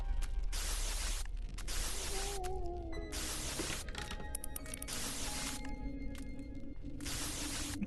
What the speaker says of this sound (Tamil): பெப்பர் ஸ்ப்ரே வச்சு இவனை கொல்ல முடியும்னு பார்த்துரு